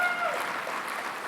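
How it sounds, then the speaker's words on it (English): Brief burst of audience clapping at a downtown civic address, a short scattered round that starts loud and thins slightly, with no voices over it. "You clap there when I say doubling the size."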